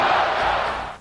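A stadium crowd roars after a touchdown at a 1999 Boise State vs. Idaho college football game in Martin Stadium, Pullman: a broad, sustained cheer that fades slightly at the end.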